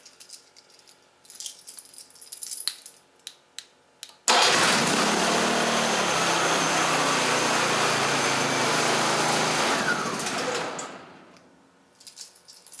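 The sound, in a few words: generator engine stopping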